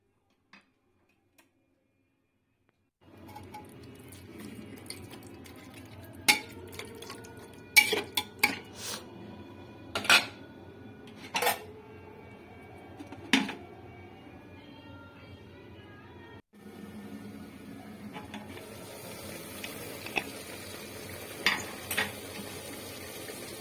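Metal pots and a lid clatter in a home kitchen while mutton and raw potato curry cooks in a pressure cooker, a series of sharp clinks and knocks over a low steady background hiss, close by.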